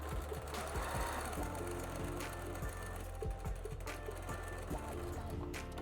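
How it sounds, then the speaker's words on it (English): A sewing machine stitches a quarter-inch seam around the edges of a patriotic fabric table runner, a steady close mechanical whir with rhythmic needle clatter throughout. "and with a 1/4 inch seam allowance, I'm gonna go around all 4 sides. I sew off the edge."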